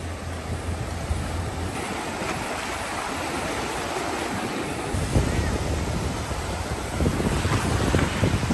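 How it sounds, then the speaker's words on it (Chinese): Sea waves washing ashore at Phi Phi Island in Krabi, a steady broadband rush of surf with gusts of wind buffeting the microphone, swelling louder toward the end with no voices. "哇，这海浪太爽了"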